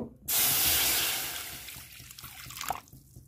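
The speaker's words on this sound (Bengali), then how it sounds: "এবার আমি ডালটা সেদ্ধ করতে দিয়ে দেব এবার আমি জল দিয়ে দেব" Water poured into a hot kadai on a gas stove for boiling red lentils, a sudden loud hissing burst of steam and spray that gradually fades into quieter bubbling and dripping.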